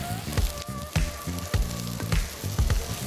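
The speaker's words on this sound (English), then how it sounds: "A little bit of extra virgin olive oil into a nice warm pan, tablespoon or two, and then we're going to hit it with our polenta" Polenta sizzles in a tablespoon or two of extra virgin olive oil in a hot pan. The frying is a steady close crackle, broken by sharp pops and clatters at irregular moments, with no talking.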